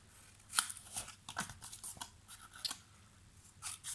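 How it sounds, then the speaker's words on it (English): Scissors snip the corners off recycled cardboard in several crisp cuts with small crunches, close and fairly quiet, spaced unevenly over a few seconds with no talking. "now we need to mitre the corners, and that is simply just cutting off"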